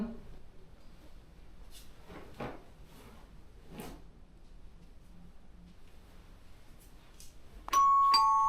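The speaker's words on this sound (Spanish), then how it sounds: "Timbre." Brief doorbell chime near the end of a quiet indoor room, a clear two-tone ring following faint knocks and muffled speech.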